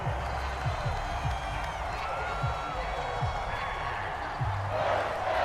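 A football stadium crowd late in a close fourth quarter, a broad murmur with scattered cheers, whoops and clapping, while a commentator talks over it.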